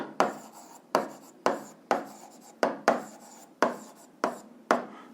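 Chalk or a pen strikes a board or paper in a series of about nine sharp taps and scratches, each trailing off into a brief scrape. The strokes are close and fall in a fairly even rhythm.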